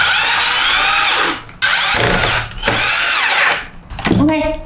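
A power drill drives screws into the black plastic base of a television under repair, in three loud whirring bursts with short pauses between them, and a brief rattle at the end.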